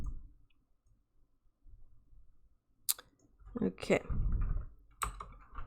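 Sparse, quiet clicks from a computer keyboard come in a few separate taps, with a short spoken word and some low voice sounds between them.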